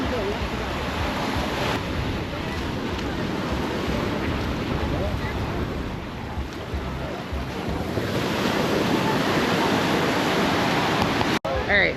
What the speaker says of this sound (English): It is very, very wavy out there.